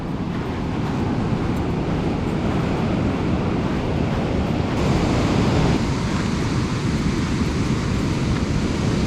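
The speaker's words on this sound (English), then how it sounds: "Pretty relaxing though, just being by the ocean, as it always is." Ocean surf rolls steadily onto a beach with gusting wind buffeting the microphone, a loud continuous wash with no pauses and no voices.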